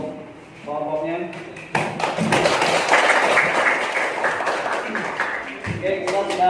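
A classroom full of students applauds a presenting group, with a burst of clapping that swells for several seconds, then fades, framed by a teacher speaking before and after.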